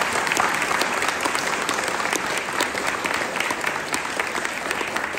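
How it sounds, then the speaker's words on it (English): An audience at a veterans salute event claps loudly and continuously, dense applause from a sizable crowd lasting several seconds. "they deserve a round of applause as well"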